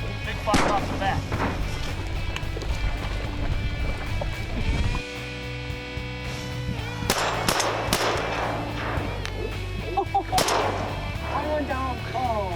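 Sharp shotgun blasts ring out while duck hunting in prairie potholes, several loud reports spaced across the stretch over outdoor ambience, with voices talking in between.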